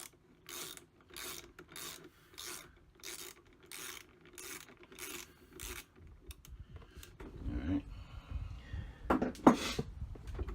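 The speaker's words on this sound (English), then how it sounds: "Let me go ahead and loosen this" A ratchet wrench loosens the master negative battery cable on an RV trailer's battery, with about ten evenly spaced ratcheting strokes followed by scraping and rubbing handling noises, close and fairly quiet.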